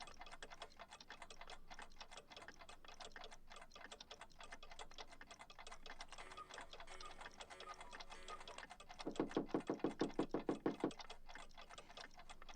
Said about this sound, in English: Authentic Black Forest cuckoo clocks.